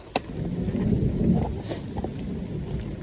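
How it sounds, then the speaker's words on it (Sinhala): Light rain falling outdoors on a mountaintop campsite among clouds, a steady close patter with a low rumbling undertone and a few sharper drips, with no talk. "දැන් ඒක දිගටම හිමීට වහිනවා ඒක"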